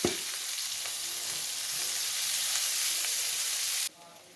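Onion hits hot oil for an aloo matar samosa filling. It sizzles loudly at once, keeps up a steady crackling fry, then drops off sharply near the end.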